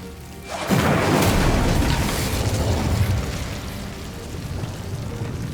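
An Incendio fire spell cast in Hogwarts Legacy bursts out with a sudden loud whoosh and roar of flame, then rumbles and crackles steadily for several seconds before easing slightly.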